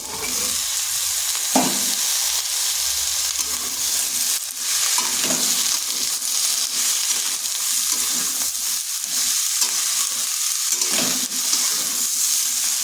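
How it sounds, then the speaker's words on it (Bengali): Chopped ivy gourd (kundri) fries in a pan with onion, a steady broadband sizzle running throughout with occasional scraping stirs of a spatula, close and fairly loud, no talking. "পেঁয়াজটা ভেজে নিয়েছি এরপর দিয়ে দিচ্ছি কেটে রাখা কুমড়িগুলো"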